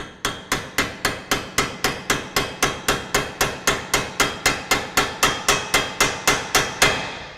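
A hammer taps a fitting into the cooling housing of a Porsche 996 or 997 with about two dozen sharp, evenly spaced, close strikes in a quick steady rhythm, with no talk.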